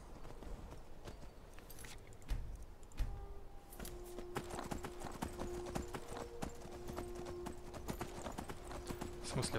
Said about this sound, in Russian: Поехали лошадь вдоль дороги.